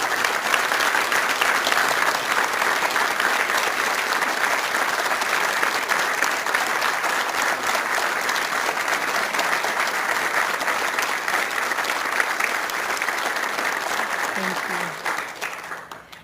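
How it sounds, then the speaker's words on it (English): A large awards-ceremony audience gives the nominees for the 2023 New South Wales Australian of the Year a loud, sustained, dense round of applause that holds steady before fading out at the end. "Let's give these amazing Australians a massive round of applause"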